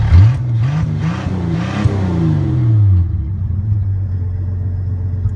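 A 1966 Ford Galaxie rat rod's engine revs and wavers in pitch for a few seconds, then settles into a low, steady idle rumble.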